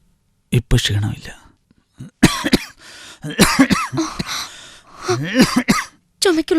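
A man coughs several times in a domestic scene, short rough bursts alternating with throat clearing and speech, close and fairly loud.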